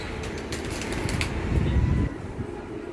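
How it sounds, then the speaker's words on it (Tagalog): A racing pigeon arriving home after a long race from Rosales, Pangasinan flaps its wings in a short rustling burst, close and moderately loud over steady outdoor background noise. "may dumating na ibon"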